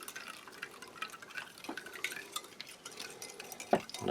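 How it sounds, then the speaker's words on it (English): A spoon stirs sugary drink powder into a glass of cold water from a Czech army ration pack, a soft continuous clinking and swirling, faint and close, with a sharper clink near the end. "Just taking time to mix there."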